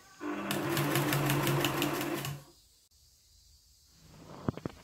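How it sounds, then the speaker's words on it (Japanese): A sewing machine stitches a bias strip to a quilt border in a fast, steady run for about two seconds, then stops, followed by a few faint clicks. "バイアス地をなるべく伸ばさないようにしてボーダーと縫い合わせていきます。"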